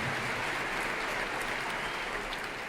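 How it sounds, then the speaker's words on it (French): Applause from a ceremony audience at Cannes fills the hall as a steady, even roar of many hands clapping, continuous and moderately loud throughout without any speech. "Gardez encore quelques applaudissements."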